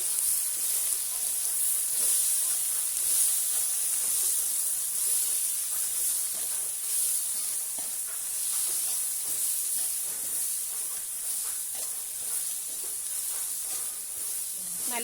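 Green chillies, tomato and ginger paste sizzle and hiss steadily in a hot pan, a continuous close frying sound with faint scraping and no talk.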